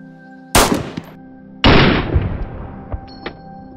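SKS rifle shots in a video game: two loud, sharp reports with long decaying tails, about a second apart, followed by fainter distant cracks.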